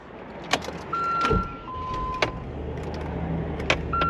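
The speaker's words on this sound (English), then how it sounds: "open the rear window" A car's electric rear window motor whirs steadily as the glass opens, with a few sharp clicks and knocks around it in a quiet cabin of a Land Rover Discovery.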